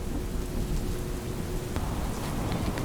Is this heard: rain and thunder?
yes